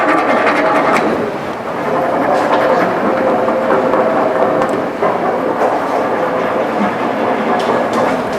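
A train rumbles past loudly and steadily, with a continuous rolling clatter of wheels on rails throughout.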